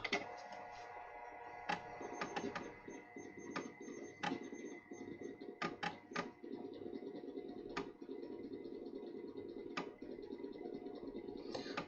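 A 3.5-inch floppy drive fitted inside an Atari 130XE runs a read/write test, giving a faint continuous mechanical whir broken by irregular sharp ticks and clicks of the head stepping, with no voices.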